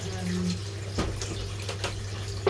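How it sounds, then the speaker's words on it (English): Water runs steadily from a kitchen sink tap while dishes are washed, a constant close hiss with a low hum and a few faint clinks, under light talk. "So I'm gonna just start washing."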